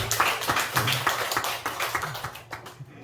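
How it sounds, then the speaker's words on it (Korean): A church congregation at a Sunday service claps in thanks, a short, moderately loud round of hand claps with uneven rhythm that tapers off after about three seconds. "우리 수고하신 모든 분들 위해서 수고하셨다고 우리 감사하도록 박수하겠습니다"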